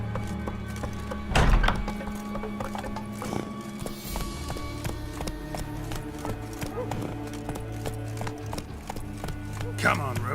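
Hooves of Geralt's horse Roach in The Witcher 3, a steady clip-clop of trotting at close range with a few heavier thumps and a snort, under a voice.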